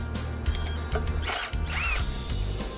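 A power drill backs bolts out of a turbo housing, with whirring bursts, ratcheting clicks and rising motor pitch, loud and close, no voices.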